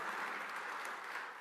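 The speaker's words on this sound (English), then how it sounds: "you can give that a round of applause" Audience applause at a governor's remarks to an association, steady clapping from a crowd that fills the short stretch and fades slightly at the end.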